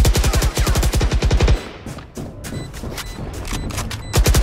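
Loud, close automatic weapon fire in Valorant, a fast steady volley at the start, scattered shots in the middle and another burst closing out the moment.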